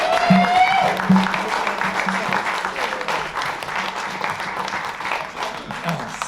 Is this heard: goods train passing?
no